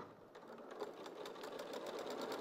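A sewing machine with a walking foot stitches a bag at a long decorative stitch length. It runs in a quiet, rapid, even rhythm of needle strokes at close range.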